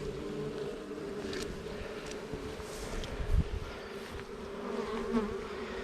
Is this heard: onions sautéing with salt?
no